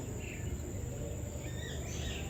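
Exotic bird calls at Bird Paradise Singapore: faint chirps and trills over a dense, steady background of insect-like buzzing, with no talk.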